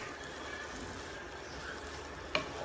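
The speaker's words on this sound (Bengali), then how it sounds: "এবার ব্রকোলি সহ ভালো করে নেড়েচেড়ে মিশিয়ে কষাবো।" Broccoli being stirred and fried with spices in a pan, a quiet steady hiss of frying with faint stirring and one sharp clink near the end, close but low in level, no talking.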